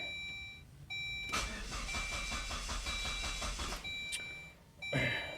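A hot car engine cranks steadily for a few seconds with a rhythmic churning starter sound and fails to catch, preceded by a dashboard chime and followed by a second short crank attempt.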